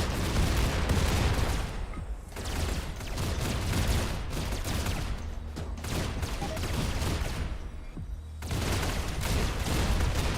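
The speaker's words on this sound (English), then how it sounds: "Why are you shooting us?" Sustained bursts of automatic gunfire and heavy weapon shots crackle through a RimWorld Warhammer 40k battle, loud and dense with brief lulls between volleys.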